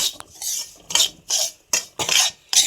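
A spoon scrapes and stirs rava roasting in ghee in a pan, about six short gritty strokes in an uneven rhythm, close and clear with no talking.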